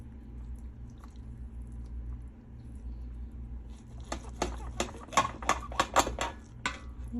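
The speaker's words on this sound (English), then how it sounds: "So now let me test one of them. Let me cut into one." A knife cuts into tender, fall-off-the-bone baked barbecue ribs in a pan, with a quiet background hum followed by a cluster of sharp scraping and clicking strokes from the blade against the pan, close by.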